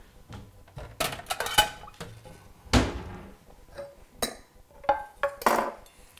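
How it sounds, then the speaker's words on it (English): A steel knife tip strikes a ceramic plate several times, sharp clinks and thunks scattered irregularly among other kitchen clatter, close and fairly loud with no talking. "Right there where that tip of that knife just hit that plate."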